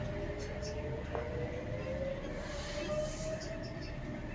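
A moving train at a station platform, a steady loud rumble of rolling wagons with a faint squeal threading through, continuous throughout with indistinct voices mixed in.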